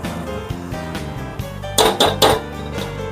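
Biryani masala is stirred in a metal pot, producing a few loud clanks and scrapes of spoon against the pot in a brief burst, over a steady tonal background hum.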